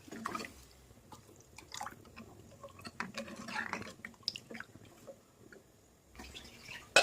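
Water poured into a pot of homemade chicken rasam, with drips, splashes and liquid sloshing in bursts over several seconds, close and moderately quiet.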